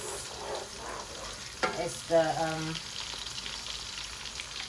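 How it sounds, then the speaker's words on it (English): Steady crackling sizzle of onions frying in hot oil, broadband and continuous, with a brief spoken word and a short clatter midway. "just let it fry, keep frying."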